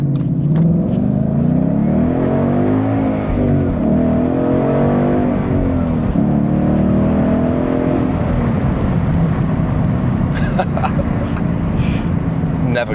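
A V8 Ford Mustang GT with a Borla exhaust accelerating hard, its loud, deep engine note climbing and dropping through the revs. It is close and continuous for the whole stretch, with no talking.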